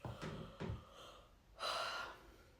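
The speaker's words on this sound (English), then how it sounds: "It really irritates me when I start yawning in a reading because I cannot get my words out." A person yawns aloud, with drawn-out breathy gasps and a longer open-mouthed exhale near the end, close and fairly quiet, with no words spoken.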